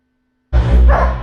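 Dogs bark in a loud burst from a played video after near silence, a single close, harsh outburst lasting under a second.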